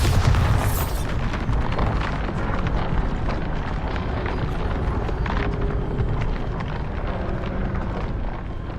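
A Bombarda blasting spell explodes in the Hogwarts Legacy video game: a loud, sustained rumbling blast with a deep roar that fills the whole clip and slowly fades.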